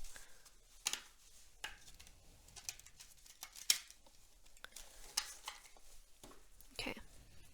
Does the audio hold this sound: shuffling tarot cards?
yes